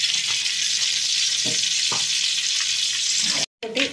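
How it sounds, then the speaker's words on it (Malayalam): Mustard seeds sizzling in hot coconut oil in a pan, a steady bright hiss with a few soft pops and spatters, near and continuous, briefly broken by a short gap near the end. "അതിലേക്ക് കുറച്ച് കടുക് വറക്കാനുള്ള കടുക് ഇടുന്നു"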